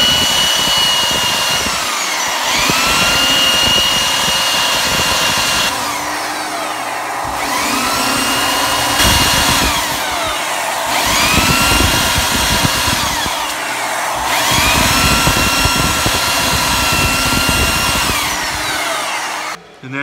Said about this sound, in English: I keep a little bit of forward pressure on the front of the handle on the belt sander